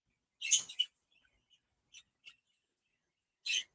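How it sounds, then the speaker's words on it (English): Cockatiels kept indoors give a few short, bright chirps at separate moments, a louder burst first and softer calls after, against an otherwise quiet room. "I hear your cockatiels every now and then"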